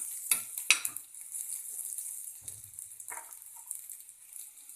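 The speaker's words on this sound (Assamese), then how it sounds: "এইখিনি ভাজি লওঁ" Ginger, garlic and chili fry in a pan for an Assamese taro chutney: a soft, quiet sizzle with a few sharp utensil clinks and scrapes of stirring near the start.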